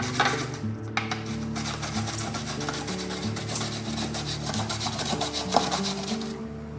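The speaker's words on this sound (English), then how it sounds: "nice thin slices of onion" A big onion being cut into thin slices on a mandoline slicer, with rapid repeated rasping strokes scraping along steadily and close up, alone without talk.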